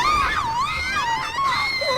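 Characters in Final Fantasy X-2 scream in high, wavering cries that overlap and swoop up and down continuously for a couple of seconds, loud and alone.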